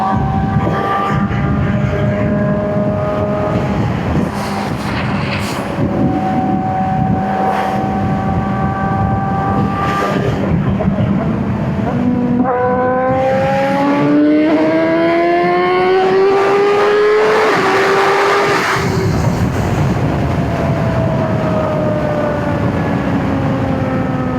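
A Honda CBR1000RR-R Fireblade SP motorcycle engine is pulling hard at high RPM. A loud, continuous droning roar climbs in pitch through several sweeping revs over steady wind rush.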